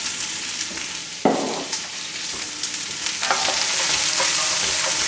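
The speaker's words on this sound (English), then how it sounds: "Give them a stir." Onions frying in beef tallow are stirred in the pan, a steady close sizzle broken by scraping and knocking of the utensil, growing slightly louder toward the end.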